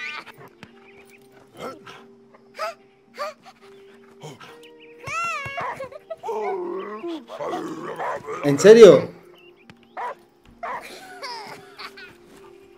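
A dog in the video game Last Day of June barks, whimpers and growls in short bursts, interleaved with someone talking over the game audio.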